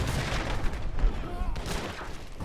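Age of Empires III battle in which cannons and Gatling guns fire amid a colonial militia assault, a rapid jumble of pops and booms layered with other battle noise.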